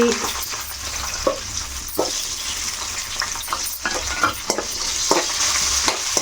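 Green chillies spit and crackle in hot oil for a Telugu tomato-coriander chutney, with a continuous close sizzle punctuated by sharp pops and stirring scrapes at an uneven rhythm, fairly loud and without speech.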